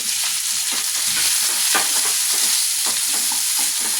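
Onion, ginger, curry leaves and garlic fry in a pan for chicken curry, a loud, close, continuous sizzle broken by repeated scrapes of stirring.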